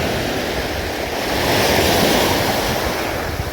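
Sea waves break and splash steadily on a shore where a person wades knee-deep while collecting shells, a continuous close surf wash with some wind noise against the microphone, swelling slightly midway.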